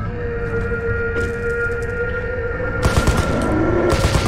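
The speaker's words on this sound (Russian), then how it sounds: "Сколько в тебя пуль надо выстрелить?" Rapid bursts of gunfire from the game Glowcoma crackle over a steady droning tone, growing denser and louder toward the end.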